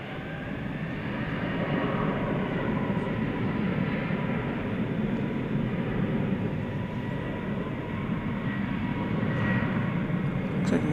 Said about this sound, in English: Looks like we've got an American flight going out to SFO. Airbus A321neo.